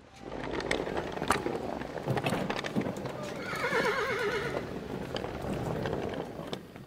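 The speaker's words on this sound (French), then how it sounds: "1500 chevaux, les plus grands de l'écurie de l'empereur, furent attelés au chariot et me traînèrent vers la capitale" A large team of horses pulling a chariot, hooves clip-clopping steadily with several distinct neighs and whinnies rising midway, moderately close and continuous throughout.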